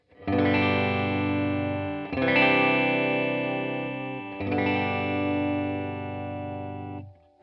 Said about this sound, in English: You can hear that kind of honky, quacky kind of Strat sound there.